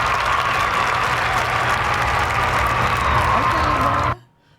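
Studio audience applauding in loud, sustained clapping that fills the space for about four seconds before abruptly cutting off.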